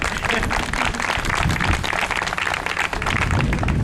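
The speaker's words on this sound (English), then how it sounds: "Yeah, come on, we clap that." Dense, steady clapping from a crowd at a groundbreaking ceremony for a new police station and crime lab campus fills the whole stretch, loud and continuous without pause, with a faint murmur of voices mixed in.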